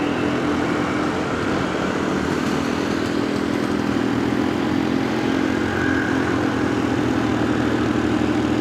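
A 1972 Vespa Super scooter's small engine strains uphill in fourth gear, a loud, continuous buzzing drone close by with a steady laboring pitch and no letup.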